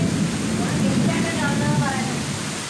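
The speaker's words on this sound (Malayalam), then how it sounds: "മഗ്‌രിബായപ്പം നല്ല ഇടിയും മഴയും" Steady rain pouring down on an evening, a dense continuous hiss filling the background at moderate loudness, with no distinct thunderclap standing out.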